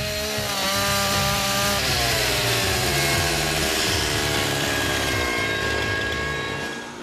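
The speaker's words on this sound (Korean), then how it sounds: "전기톱을 어떻게 이렇게 정밀하게 자르세요?" An electric saw cutting timber in a wooden house-building workshop, a loud close whining buzz whose pitch sags as the blade bites into the wood, grinding steadily and then easing off at the end.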